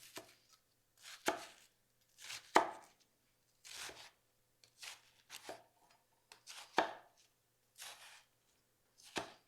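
A knife slices through celery stalks on a cutting board while home-cooking a loaded baked potato soup, giving about nine separate crisp chops at an even, unhurried pace, each close and distinct, with no talking.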